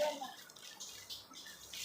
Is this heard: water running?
yes